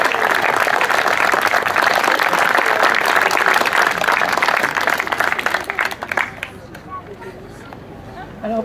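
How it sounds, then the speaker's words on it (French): A parish audience claps to welcome their new priest, a full, dense burst of applause with murmuring voices mixed in that fades away after about six seconds into a quieter room. "Et je vous demande d'applaudir sa bienvenue."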